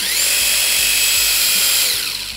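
An impact driver fitted with a new accessory runs in one steady, loud, close whine for about two seconds, with faint rhythmic impact knocks underneath and no talking.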